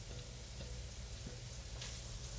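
Diced ham sizzles steadily in a hot frying pan, a soft even crackle with faint ticks and a light stirring scrape, no voices over it.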